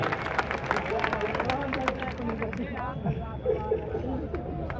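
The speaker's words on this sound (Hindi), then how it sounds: "जरा एक बार जोरदार तालियां बजा करके बताओ" Audience at a Hindi poetry recital gives loud sustained applause, dense clapping with crowd murmur and voices running underneath the whole time.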